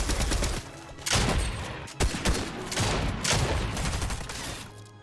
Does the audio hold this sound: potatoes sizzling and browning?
no